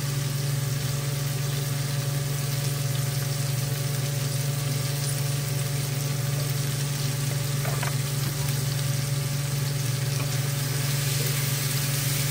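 Mung beans seasoned with salt and pepper fry in a pan while being stirred, a steady loud sizzle running the whole time over a constant low hum.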